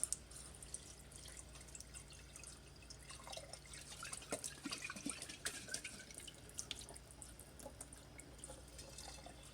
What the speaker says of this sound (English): we're going to turn on the water and give it a swirl a couple times